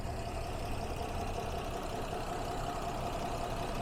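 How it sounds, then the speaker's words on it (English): A Porsche Cayenne 958.2 with a 3.6-liter VR6 idles in a steady, smooth, even hum with the hood open. The idle is continuous and quiet, with no voices. "Engine idles super smooth."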